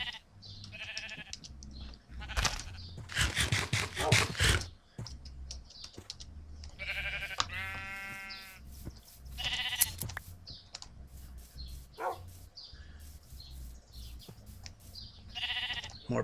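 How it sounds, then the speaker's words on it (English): Sheep in Minecraft bleat in several short, nasal calls spread across the stretch, loud and close, with clicking sounds between them and no talking. "We found sheep."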